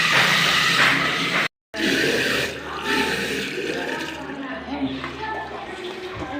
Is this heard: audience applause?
no